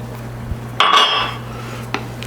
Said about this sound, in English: So let's throw in frozen peas.